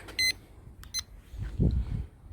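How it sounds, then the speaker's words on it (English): A kitchen timer beeps in short, bright bursts, two quick pairs of tones, beside pancakes cooking on a Camp Chef flattop. Low rumbling and faint handling noise follow. "So there's my timer."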